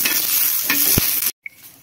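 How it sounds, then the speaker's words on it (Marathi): Green chillies roast in a pan for a rustic cluster bean curry, a loud steady sizzle with a couple of stirring knocks, then a sudden cut to quiet and a single small clink. "तर मिरच्या भाजायला टाकल्यात मी, मिरच्या पण चांगल्या भाजून घ्यायच्या।"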